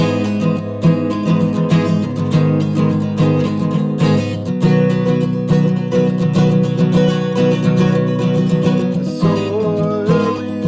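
Acoustic guitar strummed in a steady, busy rhythm through a run of chords, close and full, with no voice.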